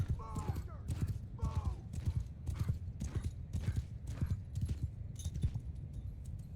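Horses in a Mount & Blade 2: Bannerlord battle trot with steady clip-clop hoofbeats, while a couple of short whinnies rise early on, all fairly close under faint battle ambience.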